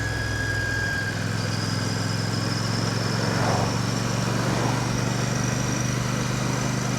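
Steady, close engine drone from a Royal Enfield Classic 650 motorcycle while riding, a continuous low rumble with a faint rising whine and wind noise, without any voice.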